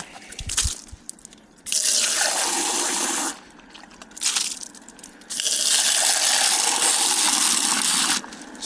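Tap water gushing into a container to rinse it out, in several loud bursts separated by short pauses, with splashing and sloshing close by.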